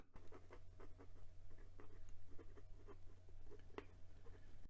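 A Hongdian 1841 fountain pen writes in reverse, nib upside down, on paper, giving very scratchy strokes that dig into the page. Close, quick rhythmic scratches sit over a steady low hum with no talk.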